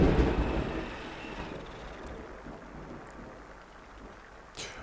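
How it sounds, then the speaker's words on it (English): A massive thunderclap from a real thunderstorm opens loud and near with a broad crack and rumble, then rolls away into a long fading grumble, with no voices. "So you guys heard a massive thunderclap."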